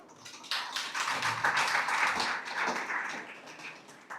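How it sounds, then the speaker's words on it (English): A conference audience gives guests a sustained round of applause, a steady wash of many hands clapping in a hall that rises quickly, holds and then eases off toward the end. "Please give a huge round of applause"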